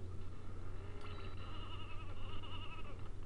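In a video game, a sheep gives a single drawn-out wavering bleat over a steady low hum, faint and fairly close.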